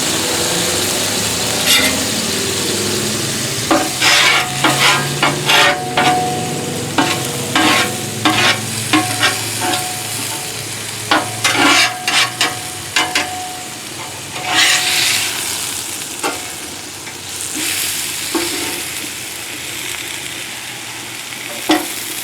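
Cauliflower steak cooking on a Blackstone flat-top griddle, with a steady sizzle and frying hiss broken by repeated scraping and clacking of a spatula on the metal surface, close and fairly loud, no talking.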